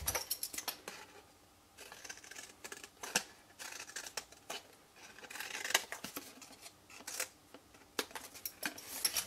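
Scissors snip through card or paper, cutting small wedges from the corners of a rectangle for a lidded box, making a rapid series of close, crisp cuts and rustles.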